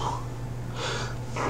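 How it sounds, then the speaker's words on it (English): A single sneeze bursts out sharply at the very end, preceded by a quiet indrawn breath over a low steady hum. "I'm gonna sneeze."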